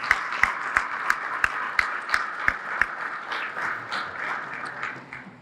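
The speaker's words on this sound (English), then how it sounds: "Just a round of applause and a thanks to Bar Harbor Wealth Management." Scattered audience clapping at a State of the City event thanks a wealth management sponsor. A handful of sharp, distinct claps stand out over a softer, thinner round of applause that fades toward the end.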